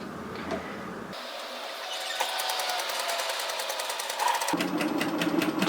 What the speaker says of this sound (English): I'm just stitching it so that the stitches are going to remain on the tape width